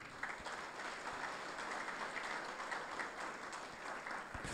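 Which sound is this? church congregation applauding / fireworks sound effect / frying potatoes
church congregation applauding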